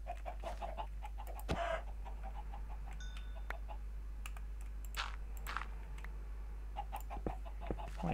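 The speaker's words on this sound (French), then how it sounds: "Il y a encore des poulets." Video game chickens cluck in brief bursts among steady game ambience and soft clicking of a computer keyboard, with no talking.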